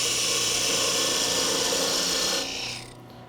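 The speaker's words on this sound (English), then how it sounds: "I'll use a parting tool, parting on my end line, the very length of the ornament." A parting tool cuts into a spinning wooden Christmas ornament on a lathe, a loud, continuous rasping scrape that drops off sharply near the end as the cut stops.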